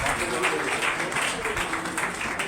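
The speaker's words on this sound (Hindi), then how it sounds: "एक बार जोरदार इनके लिए तालियां बजा दीजिए।" A crowd at an evening devotional bhajan gathering applauds, a steady wash of many hands clapping, fairly loud and continuous for a couple of seconds with no clear gaps.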